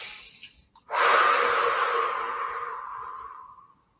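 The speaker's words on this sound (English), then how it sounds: "Taking another deep cleansing breath here." One long, deep breath during breathwork meditation, drawn in sharply and then slowly released, close and clear in a quiet room after a short soft breath.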